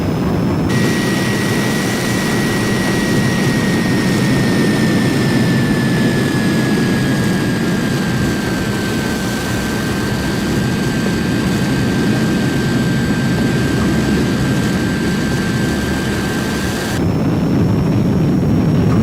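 Heinkel He 162 jet engine running steadily loud and close for the whole stretch, a sustained roar with a high whine that drifts slightly in pitch as power increases, then cuts abruptly near the end.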